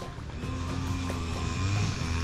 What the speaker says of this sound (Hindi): मिनी ट्रैक्टर जिसको हम लोग कबूता बोलते हैं।